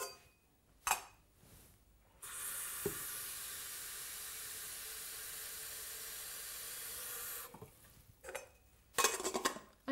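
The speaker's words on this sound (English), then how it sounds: "Then we're going to run some fresh water from the tap into the kettle." Fresh tap water gushes into a kettle for preparing a baby bottle, a steady loud rushing stream lasting several seconds, bracketed by brief clinks and handling sounds before and after.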